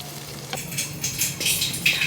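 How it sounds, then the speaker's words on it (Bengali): Noodles being stirred and tossed in a frying pan, a soft sizzle with scraping stirring strokes that swell toward the end, close and alone without talk. "ভালো করে এখন নেড়ে চেড়ে নামায় ফেলার কাজ"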